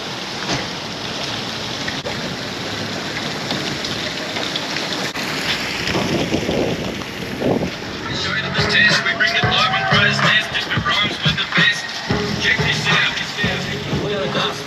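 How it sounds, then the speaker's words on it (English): Rain falls on the water at the river locks on the Cooper River in South Carolina, a broad steady wash that grows louder partway through, with a boat and voices talking over it. "We are getting a little bit of rain"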